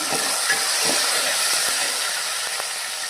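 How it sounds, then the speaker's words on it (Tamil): Ginger garlic paste and curry leaves sizzle in hot oil with a steady, loud, close hiss and crackle, broken by scattered small pops and the occasional stir, no voices. "இப்போது இஞ்சி பூண்டு பேஸ்ட்டு கொஞ்சம் போட்டுக்கலாங்க கருவேப்பிலை கொஞ்சம் போட்டுக்கலாங்க"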